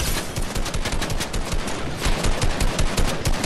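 Rapid automatic gunfire in a video game, loud and close, a dense continuous burst of shots with no pauses.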